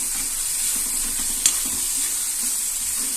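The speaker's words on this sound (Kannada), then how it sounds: "ಇದನ್ನ ನೀಟಾಗಿ ಮಿಕ್ಸ್ ಮಾಡ್ಕೊಳ್ಳಿ." Green chili chutney mixture is stirred in a steady, close scraping swish with a faint sizzle-like hiss, broken by one brief clink, and no talking.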